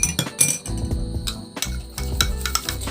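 A brush stirs a homemade hair-smoothing mask in a bowl, with repeated close clinks and scrapes in irregular bursts and no voice over them.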